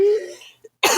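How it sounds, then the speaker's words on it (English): A voice trails off into a brief throaty catch, a pause, then a harsh, breathy cough bursts out up close. "Oh my god, I'm coughing."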